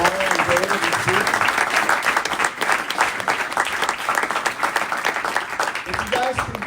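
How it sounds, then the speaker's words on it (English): Audience at a comedy show applauding, a dense, loud, steady clapping that fills the whole stretch, with a voice speaking briefly at the start and end. "Let's give a big round of applause."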